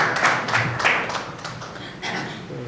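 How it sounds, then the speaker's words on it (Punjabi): Sparse, slow applause from an audience at a Punjabi book launch: a handful of separate claps rise and fade over a few seconds. "ਤਾੜੀ ਥੋੜੀ ਸਲੋ ਜੀ ਆਈ ਹੈ"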